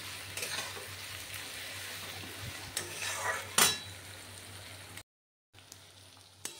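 Spice paste with chili powder fries and sizzles in a pan, with scraping stirs and a few sharp utensil clatters, close and steady before a brief cut to silence.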